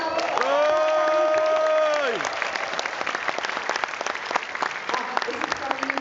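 Audience applause fills a launch event, a sustained, dense round of clapping that starts under a long held musical or voice tone and continues steadily to the end with scattered sharper claps.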